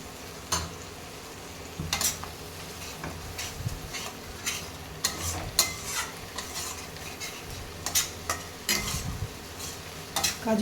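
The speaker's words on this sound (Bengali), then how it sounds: "পেস্টটা ঢেলে একটুক্ষণ নাড়ানাড়ি করে নেব" Cashew paste being stirred into masala frying in oil for Bengali rui fish kalia, a bubbling sizzle under repeated scraping and clacking spoon strokes against the pan, up close and with no speech.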